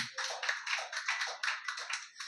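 A congregation at a church service claps loudly in a steady, rapid rhythm, many hands close and dense, with no talking over it.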